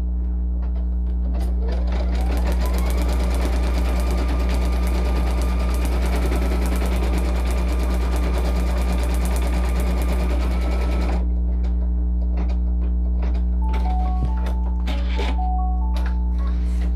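An embroidery machine stitches the horn placement line on a hooded towel with a rapid, steady needle rattle over a constant low hum for about eleven seconds, then stops and gives a few short beeps and clicks.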